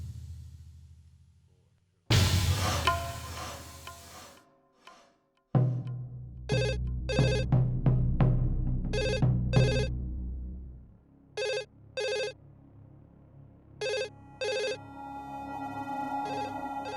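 A telephone bell rings indoors in repeated paired bursts, clear and moderately loud, following clattering and musical sounds from a domestic drama scene.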